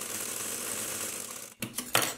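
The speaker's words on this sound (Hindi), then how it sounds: "फैब्रिक को उल्टी साइड पर मैं रखकर स्टिच करूंगी" A sewing machine stitches a fabric strip onto a child's frock sleeve, running in a steady, close mechanical whir, then stopping and restarting in short bursts at the end.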